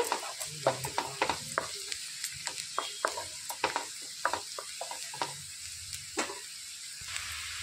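Egg and capsicum mixture being stirred with turmeric as it fries, a soft continuous sizzle broken by frequent quick scraping and clinking strokes of a spoon in the pan, no talking.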